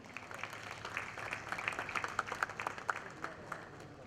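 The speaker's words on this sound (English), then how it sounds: "With a round of applause, please" A summit audience breaks into applause, scattered hand claps building into a moderate round that pulses on for a few seconds, heard from within the hall.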